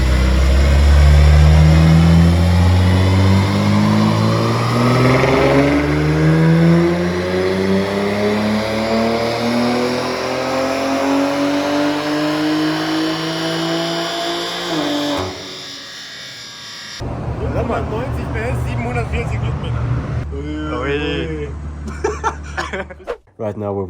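A BMW M3 G80 with a valvetronic exhaust and catalytic converters still fitted revs loudly and close by, its pitch sweeping upward through the high RPMs before dropping away, followed by a quieter stretch with a person talking.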